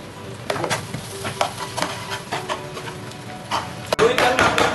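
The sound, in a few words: stirring tofu with mayonnaise in a pan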